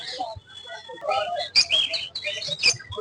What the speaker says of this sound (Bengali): খুব হাই কোয়ালিটি হাই ব্রিডের পাখি আছে এগুলো